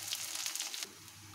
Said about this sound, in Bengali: এবারে তেলে আমি পেঁয়াজ আর তেজপাতা দিয়ে একটু হালকা বাদামি লাল করে নিব।